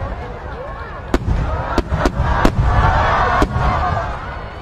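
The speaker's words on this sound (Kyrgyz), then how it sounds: "Европада алгачкылардан болуп, фейерверктер Италияда жасалган" Fireworks burst in a crowd setting in Osh during a New Year celebration, with several sharp cracks spread across a few seconds over a steady rumble of background noise and voices.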